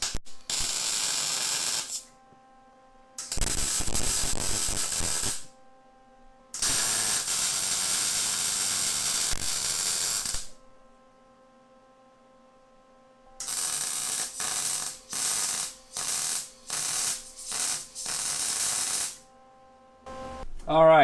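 MIG-style welding bursts as a gusset is welded onto the front support of a dune buggy: three longer sizzling runs, then a quick series of short crackling tacks, with an electrical hum between them and no talking.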